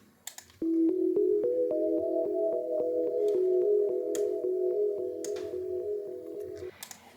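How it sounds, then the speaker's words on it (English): A gentle harp melody plays over sustained electric piano chords, with soft plucked notes at a steady, even pace across the held harmonies, clear and close. "And then I wrote a really nice harp on top of that"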